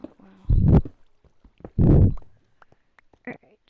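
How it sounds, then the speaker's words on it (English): Two loud, low belching bursts from a person, each about half a second, followed by faint clicks and a brief short sound near the end. "Burping a lot, wow."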